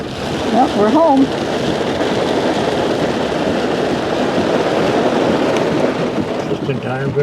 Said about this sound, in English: Just in time for the rain.